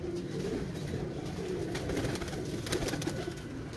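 A breeder's pigeon coos softly in a loft, its low, repeated throaty calls fairly faint against a quiet background, with no talking.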